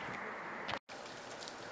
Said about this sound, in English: it's now starting to rain, so I need to go finish all the work inside